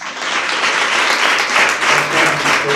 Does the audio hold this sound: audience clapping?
yes